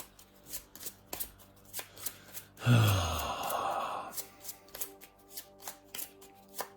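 A card deck being shuffled in the video game Legacy of Yu: a burst of riffling in the middle, framed by a steady series of soft tapping clicks before and after.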